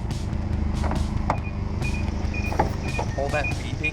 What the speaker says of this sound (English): All that beeping is from the keyless entry